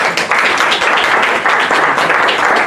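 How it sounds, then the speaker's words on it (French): Loud, dense applause from an audience at a French-language press event, a continuous crowd of hands clapping close and full for the whole stretch. "Applaudissements, s'il vous plaît."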